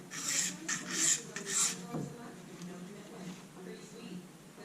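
A utility knife blade is drawn across an oil stone in light strokes, giving soft, rhythmic rasping passes that fade to faint scraping.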